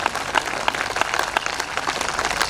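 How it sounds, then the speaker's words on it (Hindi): Audience applause at a Hindi comedy poetry recital, a dense, steady wash of many hands clapping from a crowd, moderately loud and continuous with no talk over it. "तालियां मत कमजोर करो"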